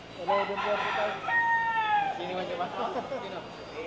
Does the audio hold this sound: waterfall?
no